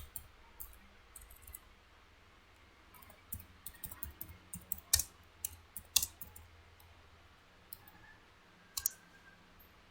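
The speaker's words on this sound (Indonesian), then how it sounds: "Kita ketik" Quiet, irregular clicks of a computer keyboard sound close by as someone types a document in Microsoft Word. A few sharper keystrokes stand out among the softer ones.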